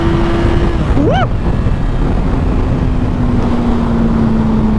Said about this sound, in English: this bike just wants to be revved